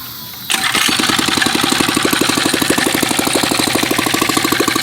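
A 4-stroke engine on a motorized beach cruiser bicycle fires up after a brief quiet moment and settles into a steady, rapid, loud idle putter close by.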